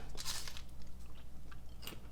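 Roasted seeds being crunched close up, giving a few crisp bites and chewing crackles over a low background hum, fairly quiet, with no talking.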